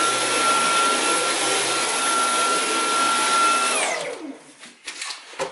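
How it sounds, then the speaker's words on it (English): Dyson cordless vacuum cleaner running on auto eco mode, a loud steady whine with a thin tonal hum that winds down sharply near the end as the motor shuts off. "just gonna clean this up real quick on auto eco"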